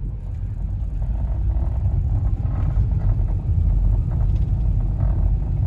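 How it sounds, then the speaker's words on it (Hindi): AMT car held in manual mode in first gear, climbing a steep ghat road uphill; a steady, loud low engine drone and road rumble continue throughout without gear changes, no talking. "अभी जो है मैं मैनुअल मोड में फर्स्ट गियर में ही आपको जो पूरी ये जो रोड है ना वो निकाल के दिखाऊंगा"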